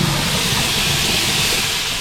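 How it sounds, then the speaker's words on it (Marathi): Phodni tempering sizzling in hot oil, a dense, loud, steady hiss with fine crackling that runs unbroken and close for the whole moment. "फोडणी बघा कशी नाचते."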